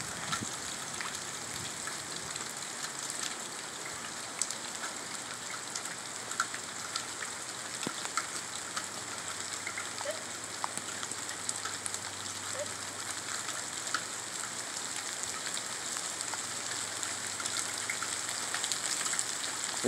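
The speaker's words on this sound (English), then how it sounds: "It's raining" Steady rain falling on a surface, a continuous hiss of dense drops with no voices, even and unbroken throughout.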